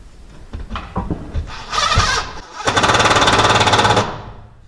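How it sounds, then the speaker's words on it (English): A power drill drives and countersinks screws into sheetrock on a north wall, with short bursts and then a sustained buzzing run, close and loud. "So we are countersinking these a little bit just in case I lose my mind and decide to mud and tape."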